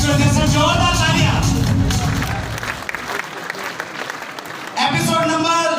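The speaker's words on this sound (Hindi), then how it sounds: "जोरदार तालियां।" Loud, sustained applause from an audience at a network-marketing motivational meet fills the room, with a dense wash of clapping that eases slightly midway before swelling again.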